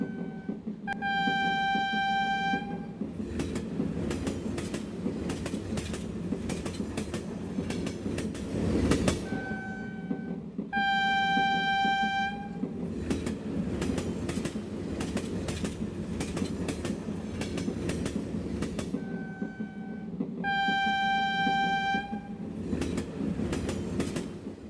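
A passenger train in Gujarat, India rolls along the tracks with a continuous rumbling clatter, while a loud two-tone horn blares in three long bursts at regular intervals.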